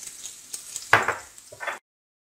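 Bell peppers dropped into a hot pan with Turkish sausage (sucuk) for menemen, giving a steady close sizzle of frying with a brief stirring clatter midway and a louder burst near the end.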